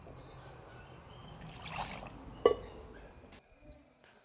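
Water pours into ground coconut masala for sambar: a short trickling splash that swells briefly and fades, with a faint clink, over a soft background hiss.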